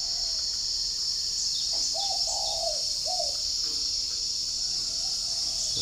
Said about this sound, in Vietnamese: Đang đấu nhau, đang đáp nhau mấy con chim rừng ở ngoài.